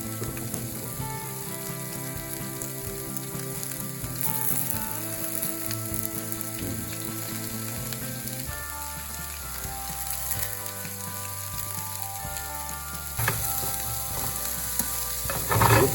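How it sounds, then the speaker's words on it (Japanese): Vegetables starting with cabbage stir-fried in leftover pork fat in a frying pan, a steady close sizzle with scraping and stirring throughout, a louder burst near the end. "残った油で豚肉の油で今度は野菜を炒めていきます"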